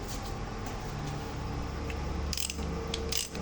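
A Japanese half-inch ratchet socket wrench from old ship tools clicks steadily at close range, with a few sharper metallic ticks and rattles near the end.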